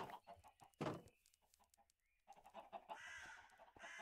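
A chicken clucks in Minecraft, a few short close clucks and squawks among soft game background sounds, with no talking.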